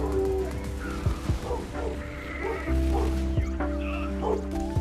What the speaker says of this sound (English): If y'all can hear a dog barking